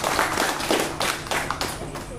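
Audience applause at an Indonesian political campaign event for a DPR RI legislative candidate, a dense wash of hand claps filling the room under an announcer's voice.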